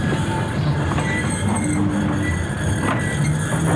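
A German-built electric locomotive on a colliery coal railway, a steady loud rumble of running gear with faint squeals and clanks from the wagons, continuous throughout with no talking.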